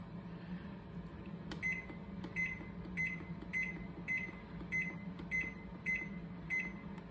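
A bread machine beeps repeatedly in a steady series of short, evenly spaced chirps while its knead-only dough course is selected, the tones sharp and moderately loud over a low background hum.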